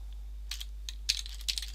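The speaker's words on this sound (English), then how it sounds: "Let's type in notepad, and notepad opens." Several quick keystrokes tapped on a computer keyboard while a command is entered in a PowerShell session, coming as short bursts of clicks alone against quiet background hum.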